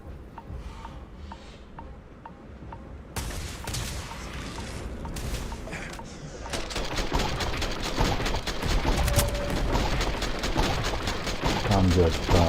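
Gunfire in the video game Starfield starts as sparse distant pops, then builds into dense rapid bursts and booms that grow louder toward the end, mixed with other game noise.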